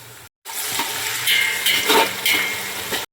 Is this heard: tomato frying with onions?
yes